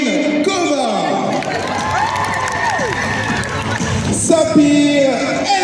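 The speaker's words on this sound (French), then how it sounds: "Toujours sous vos applaudissements et sous un maximum de bruit" Crowd at a French book event cheers and applauds loudly as names are called, with whoops and high shouts over a continuous wash of clapping.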